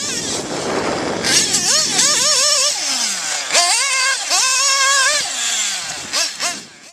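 A nitro RC engine with a VP Pro three-shoe aluminum clutch runs loud and close, its high buzzing whine repeatedly revving up and dropping back down in several bursts before trailing off.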